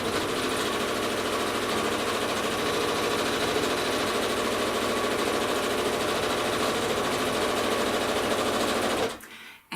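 A sewing machine with a walking foot stitches through a quilt in a steady, fast mechanical whir that runs nearly unbroken, then stops abruptly near the end.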